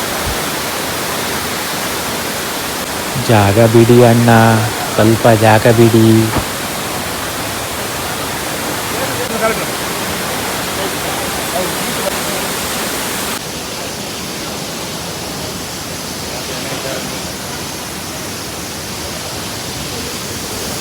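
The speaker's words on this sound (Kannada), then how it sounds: "ಪಕ್ಕದಲ್ಲಿ ಜಲಪಾತ" Steady broadband rush of a waterfall beside the Bheemeshwar temple on the Sagar–Bhatkala road near Kogar, continuous and close, with someone speaking briefly over it early on.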